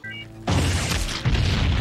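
A movie explosion goes off as a sudden loud boom that keeps rumbling with debris, then a second heavy burst follows, close and full, after a quiet stretch of tonal score.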